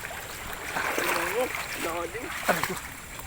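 Strong floodwater rushes steadily during a river crossing in a flood, a constant broad churning wash with splashes, heard under people talking close by.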